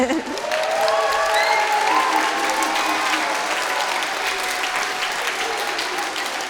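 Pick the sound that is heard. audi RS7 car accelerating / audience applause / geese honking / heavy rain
audience applause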